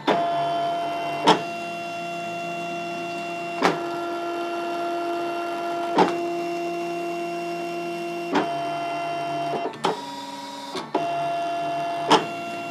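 A Brother Scan n Cut machine cuts fabric at slow speed, giving a steady close mechanical whine with shifting motor tones and a sharp click or clunk every few seconds as the carriage changes direction.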